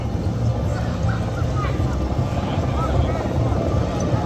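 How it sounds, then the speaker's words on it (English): A police helicopter flying overhead during a street march in London, its steady rotor thrum and engine drone filling the background under nearby crowd noise and voices. "a police helicopter above us"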